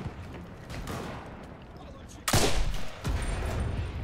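Gunfire in the video game Enlisted: a loud sharp burst near the middle, then a second shot, set against a steady rumbling battle din with scattered distant reports.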